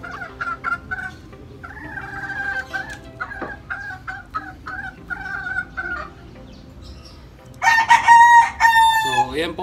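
Young Sweater Escolin line chickens, about two to three months old, give a run of close, repeated clucks and calls, ending in a louder burst of crowing attempts.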